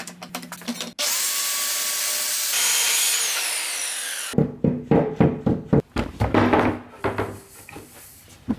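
A power tool cuts an MDF workbench top in a loud, steady run of about three seconds with a rising whine, followed by a series of uneven, rhythmic bursts.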